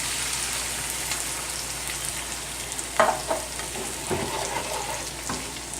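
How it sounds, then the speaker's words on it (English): Cold heavy cream hitting a hot pan of pancetta, a steady close sizzle and frying hiss with a few stirring clatters partway through and no talk. "So we're gonna add some heavy cream, 4 ounces."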